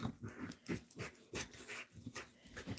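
Puppies at play, with a dog's short panting and growling bursts coming in quick, uneven succession from close by.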